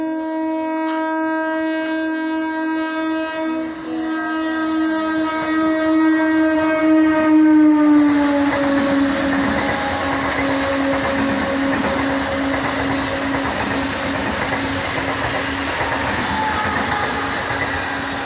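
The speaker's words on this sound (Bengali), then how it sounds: "এখান থেকে একটা ট্রেন আসছে, জানি না কি আসছে।" A Vande Bharat train sounds a long, loud horn as it approaches, then roars past close by with a heavy, sustained rumble of wheels on rails.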